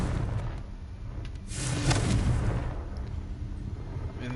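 A Confringo spell blast in Hogwarts Legacy: a deep, rumbling boom that swells about halfway through over a dense, steady bed of game ambience, then fades back without a distinct sharp attack.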